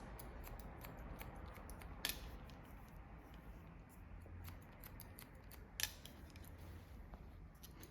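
Scissors cut through hair for a pixie undercut mohawk: two crisp, faint snips about four seconds apart, close by, over a quiet room hum.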